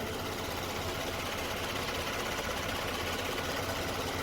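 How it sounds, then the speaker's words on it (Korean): A Genesis G80 engine idles with a steady, even rumble and faint mechanical ticking, close up and continuous with no voices. "엔진 소리도 열고 들려봐 드리겠습니다."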